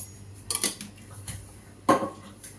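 A spoon scooping tea powder from a container gives a few light metallic clinks and taps, faint and close in a quiet kitchen, with one brighter knock near the end.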